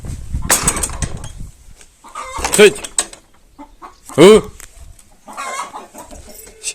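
Chickens cluck nearby and a rooster crows twice in loud drawn-out calls, with a man's brief exclamations between them.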